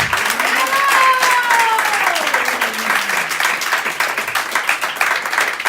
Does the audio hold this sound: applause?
yes